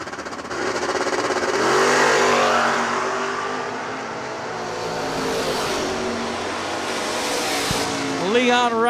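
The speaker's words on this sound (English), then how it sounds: "Zach Jones alongside the first gen Camaro to Walnut Hill, Illinois, and at 570." Drag race cars launch at a drag racing event, a first-gen Camaro among them, with roaring engines rising in pitch as they accelerate down the strip, loud and sustained, while an announcer talks over them.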